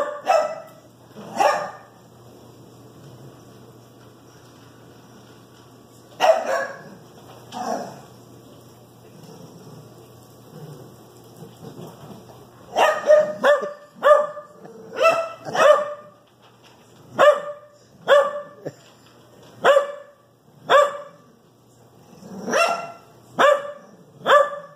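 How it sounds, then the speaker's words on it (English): A puppy barks in sharp bursts, a few scattered barks at first, then a rapid, repeated volley of loud yaps close by. "What you barking at, Mac?"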